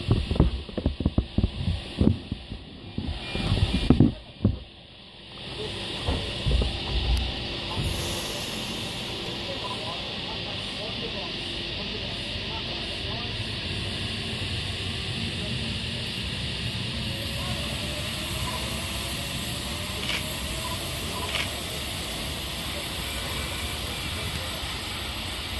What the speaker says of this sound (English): Anyway, this train will shortly be departing.